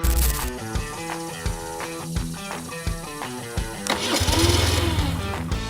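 A BMW R1150R boxer-twin motorcycle engine running steadily with a throaty, pulsing idle and a few blips of throttle, close and fairly loud with no talk over it.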